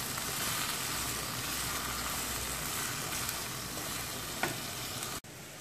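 Steady, close sizzling of boiled potatoes and peas frying in a pan, with a brief stir scrape near the end before it cuts off.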